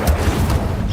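Incendio fire spell cast in the Hogwarts Legacy video game, a brief loud low boom with a rumbling burst, heavy and close.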